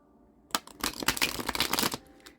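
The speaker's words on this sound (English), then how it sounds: "We're going to give it one more shuffle." A deck of cards riffled and shuffled up close, a dense flutter of snapping card edges lasting about a second and a half, with no talking.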